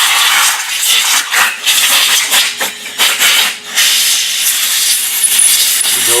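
Short bursts of compressed air hiss through the passages of an Edelbrock carburetor on a workbench during cleaning, a bright airy rush that pulses on and off at low pressure, close and fairly loud.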